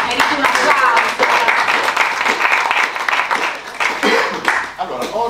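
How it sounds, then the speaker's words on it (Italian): An audience applauds at an Italian book presentation, a dense, steady clatter of clapping lasting several seconds with a few voices mixed in. "Merito un applauso."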